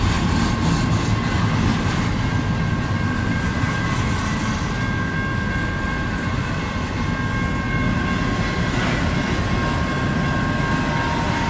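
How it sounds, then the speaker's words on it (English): A double-stack freight train rumbles steadily past at close range, with a continuous heavy roar and faint clattering of the cars, with no break throughout. "Oh, I hear the other train."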